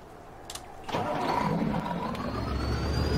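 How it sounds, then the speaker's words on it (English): A yellow monster truck in the video game Farming Simulator 19 starts up after a couple of faint clicks, then its engine catches into a loud, steady idle with a rising rev toward the end, no talk over it. "It's a monster truck."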